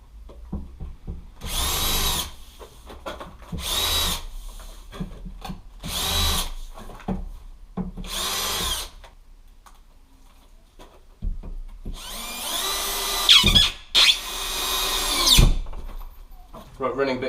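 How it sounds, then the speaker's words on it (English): A power drill with a 7mm bit countersinks screws in plasterboard in about six loud, close bursts of whining spin, separated by pauses, with someone talking between them. "just got a 7mm bit, just literally take a few mil out, and then you can countersink them"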